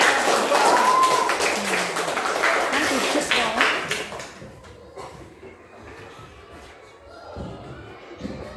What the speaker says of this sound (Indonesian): Kasih tepuk tangan buat